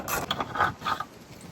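A 19mm socket wrench works on the body mount bolts of a Jeep TJ, giving a quick series of close metallic ratcheting clicks and clunks over about a second before fading.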